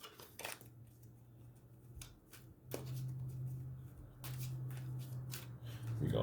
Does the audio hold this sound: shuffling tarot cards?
yes